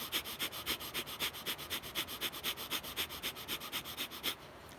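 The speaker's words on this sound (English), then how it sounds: "Try to do this breath of fire," Breath of fire breathing exercise during meditation: about twenty rapid, rhythmic, forceful nasal breaths in an even pulse, close and clear, stopping just before the end.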